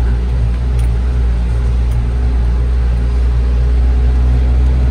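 Heavy diesel engine of a Po Bagong bus drones steadily in second gear on a steep downhill mountain route, a loud, continuous low rumble with no talk.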